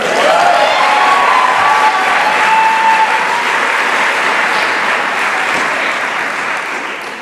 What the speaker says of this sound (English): You may clap right now.